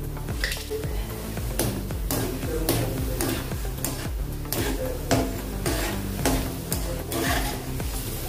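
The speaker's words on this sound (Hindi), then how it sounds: "अभी हम काजू को तलेंगे।" Cashews fry in hot oil for a potato chivda snack, a continuous sizzle broken by rhythmic scraping and stirring of a spoon against the pan, close up, with faint background music.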